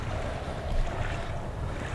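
A character wades through water in the horror video game Outlast, giving a steady watery swish and slosh with low rumbling noise that continues without pause for the full two seconds and has no speech over it.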